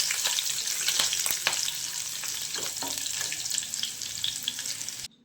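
Cumin seeds and garlic frying in a pan give a steady, close sizzle with a few sharp scraping clicks from stirring, running continuously without talk until it cuts off near the end.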